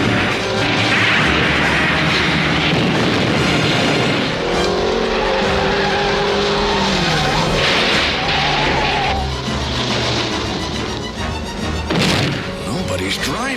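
Stunticon cars from a Transformers cartoon roar and race in a loud, continuous mix of engines, skidding tires and crashing impacts, with a dense soundtrack and voices underneath.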